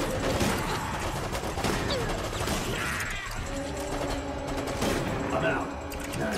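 Dense, continuous gunfire from a firefight in Resident Evil: Operation Raccoon City, rapid automatic bursts and overlapping shots rattling close and loud throughout, with voices speaking amid the shooting.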